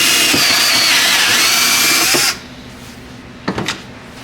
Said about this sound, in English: we're drilling a hole in the back